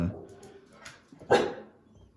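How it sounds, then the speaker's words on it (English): Several dogs bark at something outside a house, a few short barks and yips at moderate distance, with faint room noise between them. "those are the dogs barking at something outside"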